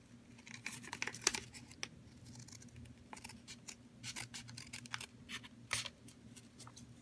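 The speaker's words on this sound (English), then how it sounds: "Let me just trim this again." Scissors trimming the paper of a homemade trading card booster pack: crisp, close snips scattered irregularly, with faint crinkling and a low background hum beneath.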